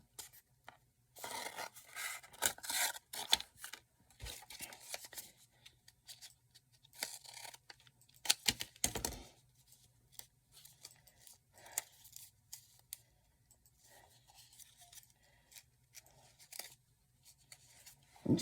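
Scissors snip apart glued paper craft pieces for Christmas dangle ornaments, a run of close, crisp cuts and rustling paper in bursts with quiet gaps between them.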